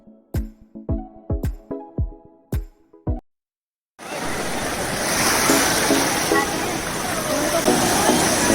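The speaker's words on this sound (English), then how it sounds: "Golden sandy beach, blue waters, green palm trees." Ocean surf at Kovalam Beach rolls in as a loud, continuous wash of noise, following several sharp, evenly spaced percussive hits that stop before a moment of silence.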